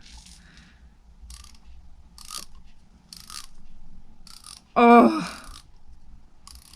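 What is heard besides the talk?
Snap-on ratchet screwdriver ratchet clicking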